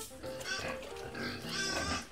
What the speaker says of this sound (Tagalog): Gutom na ang mga baboy.